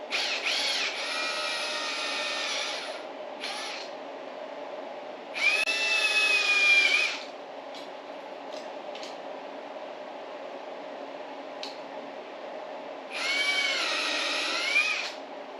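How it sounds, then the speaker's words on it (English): Power drill boring small holes into a homemade moonshine still, three loud whining bursts of drilling, the middle and last longer, separated by a quieter steady hum with a few faint clicks. "So we need to drill small holes here."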